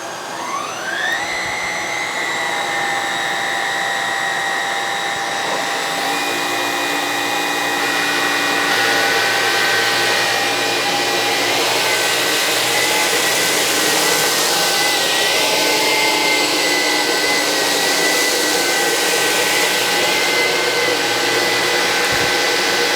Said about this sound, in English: I'm going to put both of them onto the maximum suction to see how well they get on.